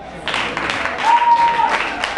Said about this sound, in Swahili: makofi kwao.